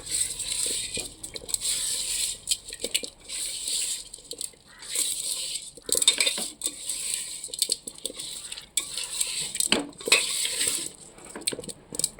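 Small fish mixed by hand with oil, salt, chilli powder, tomato and onion in a metal vessel, giving close, irregular clinks and wet squelching scrapes in bursts with brief pauses, and no voices.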